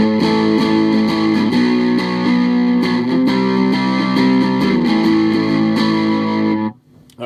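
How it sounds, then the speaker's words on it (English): Electric guitar chords ring out through a homemade teddy fuzz distortion pedal, loud and sustained with strummed attacks, then cut off abruptly near the end. "So that's the distortion wound all the way back"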